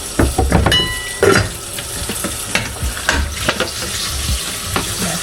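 Cherries are washed by hand under running tap water, with steady splashing and close rustling and knocking of fruit in the stream, fairly loud and continuous, no talk.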